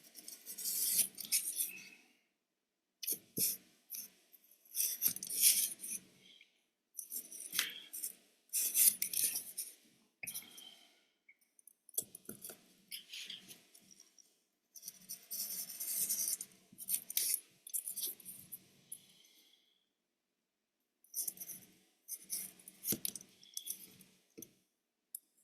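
A blade slicing through foam board in repeated short strokes, dry scraping and rasping bursts separated by brief pauses, close and fairly quiet.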